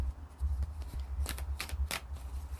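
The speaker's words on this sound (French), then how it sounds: "Je vais prendre deux cartes comme ça." Tarot cards being shuffled, heard as a soft, close riffling with a few quick papery bursts over low room hum, faint and brief, and no one talking.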